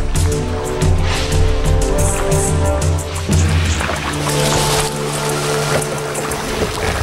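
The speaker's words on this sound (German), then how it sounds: "Ganz vorsichtig fährt Steve an die Tiere heran, denn sie greifen gelegentlich auch Boote an" A boat creeps slowly along an African river in Zambia toward a herd of hippos, its engine a steady low droning hum with water splashing over it, continuous and close.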